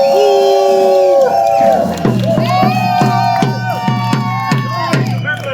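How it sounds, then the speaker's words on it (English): A crowd cheers and shouts in support of Marion, with loud overlapping voices and rhythmic chanting that carries on steadily over several seconds. "One more cheer for Marion."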